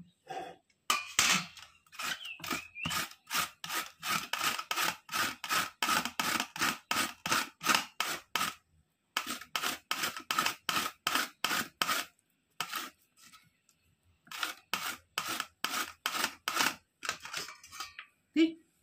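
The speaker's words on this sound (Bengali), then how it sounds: "এবার আমি এই গ্রেটারের সাহায্যে গ্রেট করে নেব" Fresh carrots rubbed over the large holes of a hand grater for gajar halwa, giving steady rhythmic rasping strokes, close and fairly loud, in long runs broken by a few short pauses.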